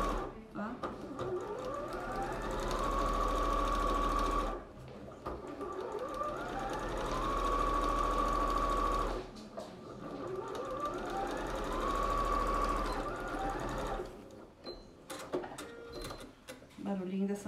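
A sewing machine stitches a small doll coat in long steady whirring runs, pausing twice between passes, with faint talk in the background.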